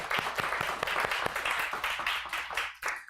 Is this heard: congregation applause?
yes